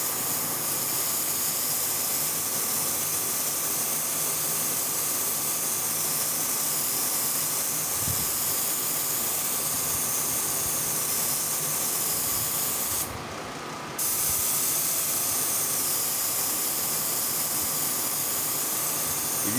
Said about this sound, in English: what I do is spray now right over the white